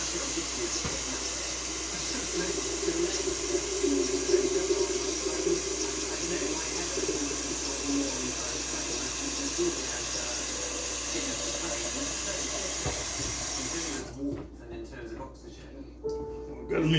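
Steady hiss of tap water running into a container to be filled, loud and continuous for most of the stretch before cutting off, with a voice talking over it.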